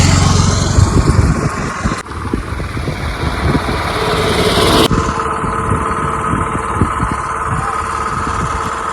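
A motor runs steadily and loudly outdoors beside a green hillside on a rural route from Bihar toward Jharkhand, its drone mixed with heavy wind rush and rumble.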